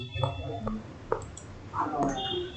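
A few sharp computer mouse clicks in AutoCAD 2016, brief and fairly faint, spaced apart, with soft muffled vocal sounds and room noise between them.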